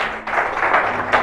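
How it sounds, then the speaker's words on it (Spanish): Church congregation applauding, a short burst of dense clapping that pulses in a few surging waves, close and fairly loud. "Denle un fuerte aplauso a Dios."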